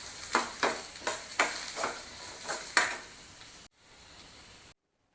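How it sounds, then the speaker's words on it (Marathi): Two onions and two tomatoes roast in oil for a spicy Satara-style mutton curry, a spatula scraping and stirring in a steady series of rhythmic strokes over a soft sizzle, ending abruptly in silence. "2 टोमॅटो आणि 2 कांदे आहेत ते आपण तेलावरती चांगले भाजून घेतलेले आहेत"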